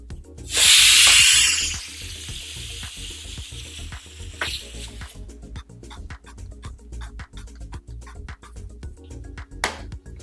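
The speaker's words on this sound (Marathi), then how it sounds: "हा पराठा आपल्याला मीडियम टू लो फ्लेम वरती भाजायचा आहे" A lachha paratha roasts on a hot pan over medium-low flame, opening with a loud burst of hissing sizzle as fat hits the pan, then settling into quieter crackling with a steady series of sharp taps and presses.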